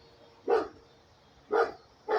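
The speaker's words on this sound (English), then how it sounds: "And get to hear that neighbor's dog." Three distinct barks from a neighbor's dog, heard outdoors at moderate distance and spaced about a second apart, with a quiet background between them.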